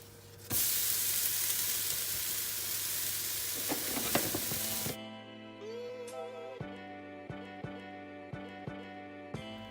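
Protein crêpe batter made with whey sizzles loudly in a hot frying pan, a steady broadband hiss that cuts off halfway and gives way to quieter kitchen sounds with a few sharp taps and clicks.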